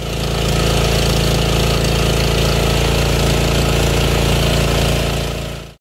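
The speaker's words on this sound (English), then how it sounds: "I'll fire up the engine, let it run at full RPM" A Troy-Bilt TB30R riding mower engine runs steadily at full RPM, a loud, constant close-up drone with a rapid mechanical knock that holds for nearly six seconds before cutting off abruptly.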